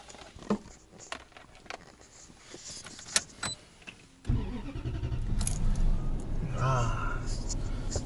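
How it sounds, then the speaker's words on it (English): A Toyota Century heard from inside: scattered clicks and handling noises, then the engine starts with a sudden jump in level into a steady low cabin rumble, with some movement noise above it. "Driving in the Toyota Century."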